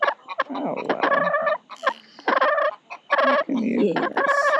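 Chickens cluck and squawk loudly and continuously up close, several birds overlapping in bursts during a nighttime leg-banding session.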